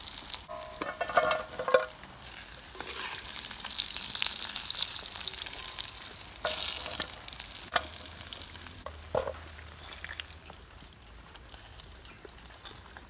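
Breadfruit fries sizzle in hot oil with a steady crackling hiss, close and continuous, with occasional clinks and stirring sounds.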